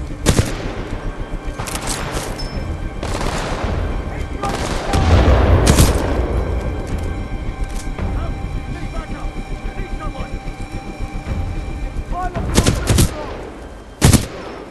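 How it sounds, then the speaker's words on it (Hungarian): Gunfire in the first-person shooter Titanfall 2: scattered sharp shots and short bursts crack out over a steady game soundscape, with a player talking throughout. "Két-három lövés után újra tárazok."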